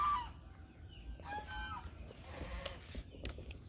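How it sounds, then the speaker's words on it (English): A large goose near a feeder gives a few short honking calls over a low outdoor background, moderately close and fairly faint. "Oh, this is the big goose"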